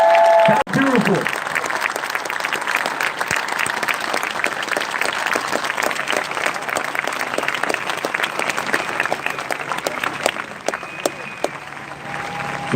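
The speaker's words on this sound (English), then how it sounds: "Give my boy a huge round of applause." Dense, steady clapping from a rally crowd in Portland, Oregon after a march speech, rolling on for several seconds at even strength, with a brief voice near the start.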